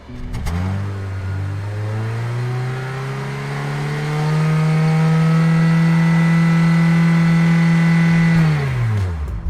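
A 1968 Ford Mustang's 289 V8 pulls hard through a drag race launch, a loud, steady low engine note climbing in pitch and holding strong for several seconds before easing off at the end.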